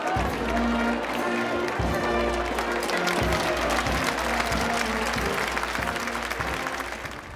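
A crowd of several thousand applauds in a town square during an Easter Sunday procession, sustained clapping under a steady low drone and rhythmic thumps, with a voice speaking over it.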